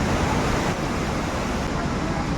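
Rushing water of Tinuy-an Falls in Surigao del Sur, a steady broadband roar that fills the whole stretch without a break, loud and close, with no talk over it.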